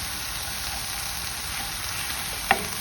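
Spinach, carrots and onion cooking in a pan with a continuous even sizzle and a single sharp utensil tap near the end.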